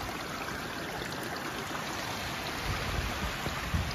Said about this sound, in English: I'm literally standing in the middle of a brook, or a burn as we would call it here in Scotland. The water is flowing pretty much all around my feet.